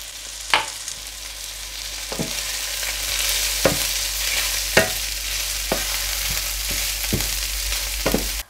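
Rice stirred into browned chicken in a hot pan for arroz con pollo with peas: a steady broadband frying sizzle runs throughout, broken by about eight sharp scrape-and-clack spoon strokes at irregular intervals, close and moderately loud, no voices.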